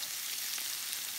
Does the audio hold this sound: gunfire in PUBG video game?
no